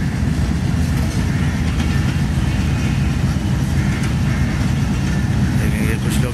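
The Shalimar Express at Karachi Cantt station, hauled by an HGMU30 locomotive, gives a loud continuous rumble of rolling wagons with steady low-frequency roar and rattling, close by throughout.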